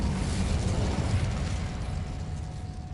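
A roaring fiery blast from the Incendio spell in Hogwarts Legacy, a loud sustained whoosh with low rumbling crackle that slowly fades over a few seconds.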